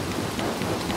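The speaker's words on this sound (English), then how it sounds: "Get out of the rain." Rain falling in the video game Little Nightmares 2, a dense steady hiss with low rumbling beneath, continuous and close, with no voices.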